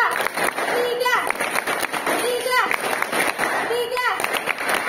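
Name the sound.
children clapping hands in a counting game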